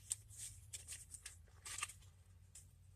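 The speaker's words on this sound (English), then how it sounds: "we're just going to shuffle real quick" Tarot cards are shuffled quickly by hand, a soft, close run of riffling and sliding card flutters in short bursts, quiet and without talk.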